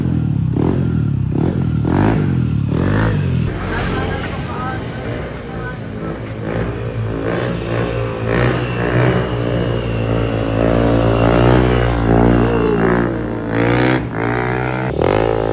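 A Yamaha Aerox scooter with a tuned CVT and CRP clutch springs revs hard nearby, its engine note climbing and falling in rising surges over a clattering base, with voices talking underneath.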